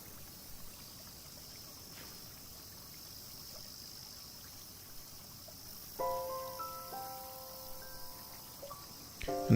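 River water trickling and flowing steadily in the video game Nostalgic Train, a soft continuous wash with faint insect chirps, joined later by a brief sustained chime-like tone.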